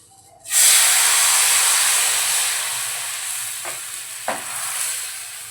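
Rice-flour ghavane batter poured onto a hot oiled pan bursts into a loud, sudden sizzle that hisses steadily and slowly fades, with a couple of faint clinks near the end.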